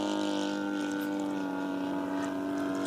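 Steady buzzing drone of the bulky engine on a 77-inch RV-8 radio-controlled model plane flying knife-edge, close and loud, holding an even pitch throughout with no speech.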